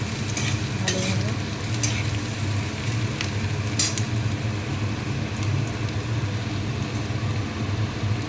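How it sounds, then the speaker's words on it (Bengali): Onions frying in oil in a kadai give a steady dense sizzle, close and continuous, with occasional sharp clicks of stirring. "কড়াইয়ে তেল দিয়ে পেঁয়াজটা ভেজে নিচ্ছি ভালোভাবে"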